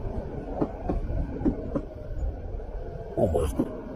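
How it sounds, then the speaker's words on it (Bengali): A midnight train slows into a platform, a steady heavy rumble broken by rhythmic wheel clatter and sharp clicks, with a brief hiss near the end. "ট্রেনটি ধীরে ধীরে শান্ত হয়ে একেবারে প্ল্যাটফর্মে এসে দাঁড়িয়ে পড়ল।"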